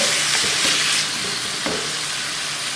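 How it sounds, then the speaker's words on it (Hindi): Minced meat with onions fries vigorously in a pan, a loud, dense sizzle with a couple of stirring scrapes, close up and with no speech. "इसको अच्छी तरह भूनना है ताकि ये कच्चा न रह जाए।"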